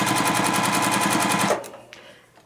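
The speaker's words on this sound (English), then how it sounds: "I'm sewing a scant or a 1/4 inch from the black line" A sewing machine runs fast and steady while stitching a quilt block, its rapid even clatter loud and close for about a second and a half before stopping, followed by a few faint handling clicks.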